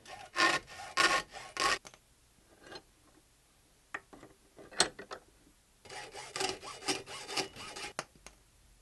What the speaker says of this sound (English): so now we're gonna go cut this braid